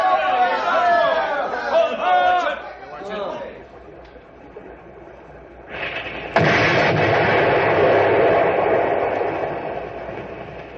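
A sudden heavy dynamite blast at a log jam erupts partway through and rumbles on as a long, loud roar, preceded by shouting voices and scattered commotion.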